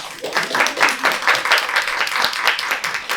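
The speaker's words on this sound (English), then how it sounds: "Let's give them a round of applause." Audience applause for a fashion and motherhood panel at a New York Fashion Week lounge, a steady wash of many hands clapping with a few voices mixed in.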